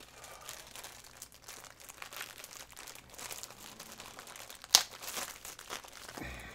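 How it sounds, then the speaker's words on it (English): Plastic bags crinkling while a Halo Legendary Crate is unpacked, with soft continuous rustling and one sharp louder crackle near the end, close and fairly quiet. "Didn't realize there was going to be plastic bags in here"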